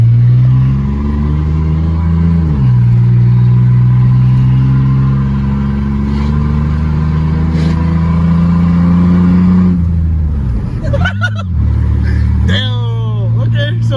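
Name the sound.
Chevy S10 truck revving burnout with no muffler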